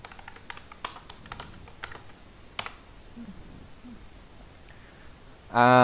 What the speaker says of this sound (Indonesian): sekarang kita ketik Flutter Doctor